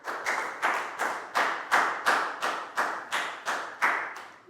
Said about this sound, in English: big round of applause for Pak Boong